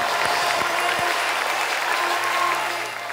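A conference audience applauds contestants at a live data-visualization competition, a dense, loud, continuous clapping from a large crowd that tapers slightly at the end.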